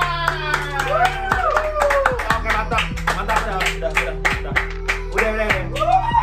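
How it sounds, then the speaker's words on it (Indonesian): Hands clap in a quick rhythmic burst indoors, close and fairly loud, layered over background music with shifting tones. "Tepuk tangan."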